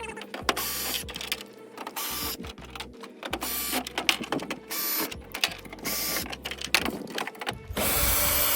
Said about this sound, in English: we're gonna get right to it and start screwing all these bolts out of here